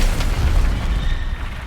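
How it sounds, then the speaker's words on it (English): A violent oil explosion erupts during a tuk-tuk chase scene in a film, a loud deep boom with a rumbling roar that holds and slowly tapers. "Everything goes up in flames, the most violent oil explosion and so on."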